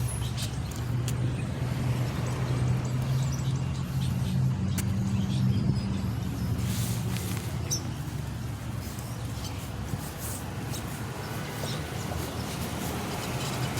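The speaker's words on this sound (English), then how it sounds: "And this vehicle is running." A parked car decorated like a Christmas tree idles steadily nearby, a low constant engine hum running under the whole stretch with faint outdoor background noise.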